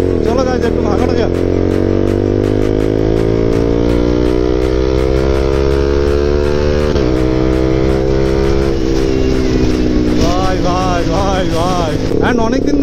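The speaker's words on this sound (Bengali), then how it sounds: "অনেকদিন ধরে না আমার এই বাইকটা চালানো হচ্ছে না" A motorcycle ridden through narrow, busy traffic, its engine loud and close with a droning hum that rises and falls as it accelerates and shifts, while a person talks over it.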